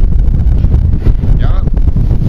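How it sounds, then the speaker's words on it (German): Steady wind gusting into an outdoor microphone in a garden in Bulgaria about 40 kilometres from the sea, a loud continuous rumble with faint talk beneath it. "merkt man dann doch die Meeresnähe, dass immer wieder ein Wind geht"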